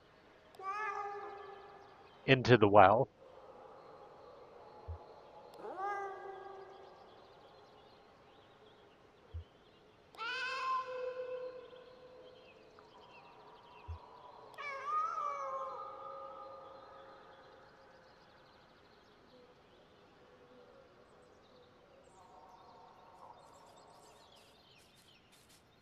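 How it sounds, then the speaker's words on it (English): In the video game Kentucky Route Zero, Act 5, a cat meows into a well: several separate, drawn-out meows with long echoing tails, spaced seconds apart in quiet surroundings, and someone speaks briefly. "to make the sound a cat make"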